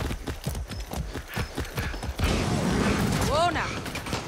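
Horse hooves clip-clop in a steady rhythm in the game Far Cry 6, up close and moderately loud, then give way to a louder rushing and swooping sound.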